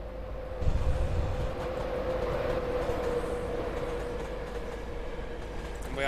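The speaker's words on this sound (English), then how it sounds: "We're going to take a trip to Hartlepool on a heavily loaded ballast train." A Class 68 diesel locomotive sits with a heavily loaded ballast train at Darlington in Train Simulator 2019, its engine a steady, loud idling rumble with a sustained tonal drone and no talk.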